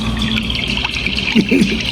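Redbreast whiskey pours and trickles steadily into a glass, with a faint burbling near the end.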